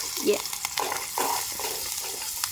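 Poha is tempered and fried in a pan in a village home, a brisk close sizzle with quick stirring scrapes running through a short stretch, no clear speech over it.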